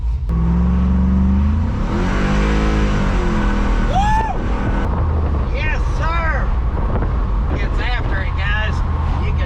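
A 1999 Chevrolet S10 pickup with an LS V8 swap, built transmission and new stall converter drives along, its engine droning steadily and revving up throughout.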